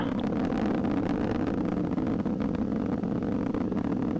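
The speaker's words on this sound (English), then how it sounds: "we're throttling up on the RD-180, still seeing a normal burn profile on the SRBs" An Atlas V rocket roars during launch, its RD-180 main engine and solid rocket boosters burning. The rumble is deep, continuous and heavy, with no break, and sounds distant.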